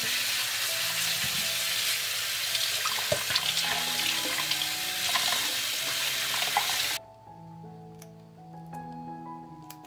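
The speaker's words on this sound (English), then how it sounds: "First, I will wash it and clean it from the stems." Fresh grapes being washed under running tap water and stripped from their stems, a steady close rush of water that stops abruptly near the end, followed by light handling clinks.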